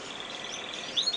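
British finches chirping in an indoor bird room, a soft continuous twittering wash with a brief brighter chirp near the end, faint and unbroken by talk.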